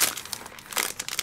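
Plastic wrapping crinkles and crackles as a card-making kit is opened up by hand, a close, loud run of sharp crumpling bursts with no talk.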